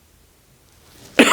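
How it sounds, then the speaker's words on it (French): A single sharp cough bursts out near the end after near silence, close and loud. "excusez-moi, je tousse."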